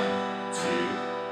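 Acoustic guitar playing a beginner strumming pattern with an added eighth-note strum on the and of 3; sustained chord ringing with a brighter strum near the middle, alone and fairly close.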